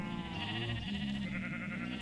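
Pigs or pigmen grunting in a video game, with several tonal, bleating grunts overlapping continuously at a moderate level, as if from a crowd nearby.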